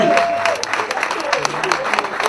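A crowd claps steadily at a fan club launch event in Pointe-Noire, a patter of many hands, with voices talking over it.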